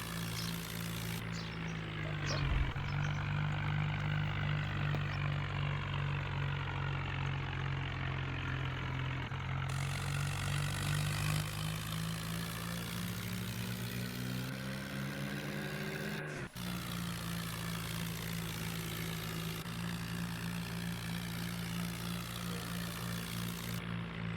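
A tractor engine runs steadily and close throughout, a low droning hum with a constant rumble, no talking over it.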